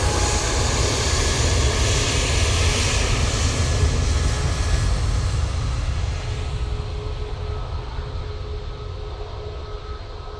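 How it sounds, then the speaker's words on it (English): An easyJet jet bound for Amsterdam Schiphol powers down the runway at Manchester Airport on its takeoff roll, a loud, steady broadband engine roar that slowly thins and fades as it pulls away. "Easyjet now on the roll. Going off to Amsterdam Schiphol."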